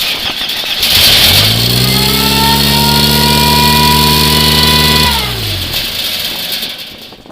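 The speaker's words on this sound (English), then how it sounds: "This is going to be the second start." A Nissan Datsun Z22 engine in an excavator, just fitted with a rebuilt carburetor, cranks and catches. It settles into a steady, loud, close running drone for about four seconds, then winds down as it shuts off.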